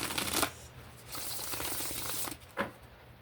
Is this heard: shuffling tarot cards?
yes